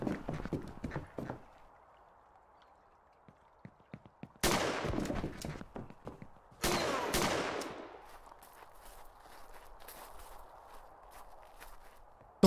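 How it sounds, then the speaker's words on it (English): Gunfire in the indie horror game Horror Tales: The Wine, scattered sharp shots with a rattling burst early, then two loud close blasts that ring out into a fading echoing tail, in an otherwise quiet scene. "What the fuck is shooting at me?"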